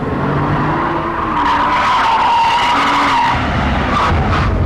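A Porsche 911 Turbo drives fast around the Millbrook Alpine test circuit, its engine roaring steadily while the tyres squeal and skid through the bends, loud and close throughout.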